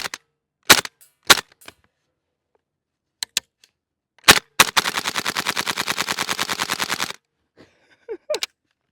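Airsoft gun firing BBs at night: a few sharp single shots, then a long rapid full-auto burst of evenly spaced cracks lasting about two and a half seconds, followed by a couple of stray clicks, loud and close with no talking.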